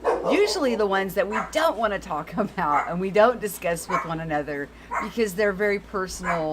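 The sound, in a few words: dogs barking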